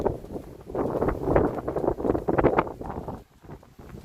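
Strong wind gusts buffet the microphone on a beach at night, a loud rumbling roar that swells and dips in bursts with no talking.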